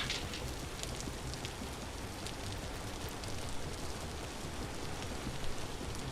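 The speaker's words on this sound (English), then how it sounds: "The rain is so loud." Steady, dense rain hiss from the video game Vintage Story fills the whole stretch at even loudness, a broad wash of patter with no breaks.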